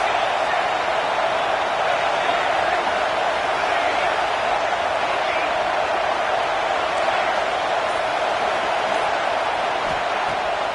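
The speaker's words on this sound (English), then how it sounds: "This crowd trying to make life miserable for this offense." Stadium crowd at an LSU vs Michigan college football game, a dense continuous roar of many voices that holds steady and loud throughout, with no distinct individual sounds standing out.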